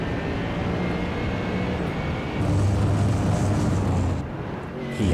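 A Mercedes GT3 car lifts and coasts in an iRacing league race at Laguna Seca, its engine drone continuous and moderately loud, swelling after the midpoint and easing near the end, with no talk.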